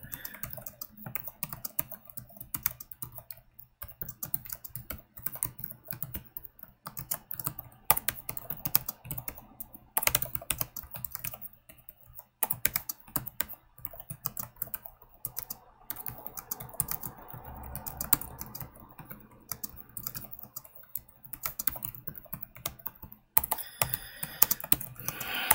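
Computer keyboard typing, a fast continuous patter of key clicks with occasional heavier strokes, close and steady throughout with no voices.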